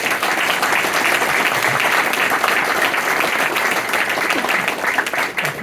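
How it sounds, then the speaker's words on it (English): Sustained applause from a sizable audience at a talk, dense and steady clapping filling the whole stretch without pause. "Big round of applause, please, for Mr. Steve Pickford."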